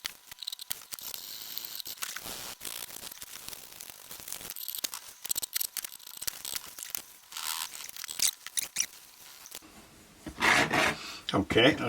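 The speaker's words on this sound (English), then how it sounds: "the next thing to do after this is to sand that down" A Stagg left-handed guitar body being sanded by hand, with close, rasping strokes that repeat irregularly and run continuously, growing harsher and louder near the end.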